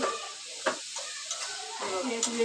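Jaggery lumps being stirred and broken up in a hot pan, with soft scraping strokes and a light sizzle close by, a few sharper knocks of the utensil against the pan.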